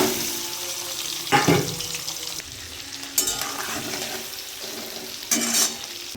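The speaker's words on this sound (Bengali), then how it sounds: "কড়াইয়ে তেল বসিয়ে দিয়েছি, তেলটা গরম হয়ে গেছে। আমি ডিম আর আলুটা ভেজে তুলে নেব।" Duck eggs and potatoes fry in hot oil in a wok, giving a steady sizzle broken by a few louder bursts of spattering as pieces are stirred or moved.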